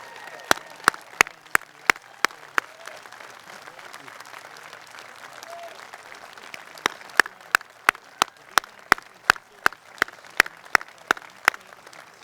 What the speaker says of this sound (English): I would like to us all publicly give you a round of applause.